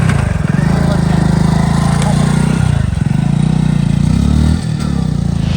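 A motorcycle being pushed to start in a Gujarati comedy scene gives a loud, steady engine drone with rattling, and its pitch dips briefly a couple of times.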